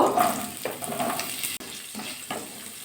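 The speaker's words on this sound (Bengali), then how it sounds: "আলুগুলো একটু হালকা আগে ভাজা করে নেব" Potatoes frying in hot mustard oil in a wok give a steady, loud hiss and crackle, close and continuous, with a couple of soft knocks.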